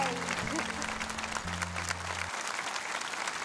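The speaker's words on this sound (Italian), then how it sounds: "questi applausi sono tutti per lei" Award ceremony audience applauds in a dense, steady wash of clapping, while low sustained musical tones sound underneath in the first part.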